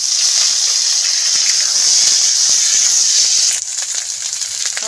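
Potatoes, sweet potatoes and carrots fry in oil spiced with five-spice seeds and dried chillies over a wood-fired stove, giving a steady, close, loud sizzling hiss that drops slightly near the end.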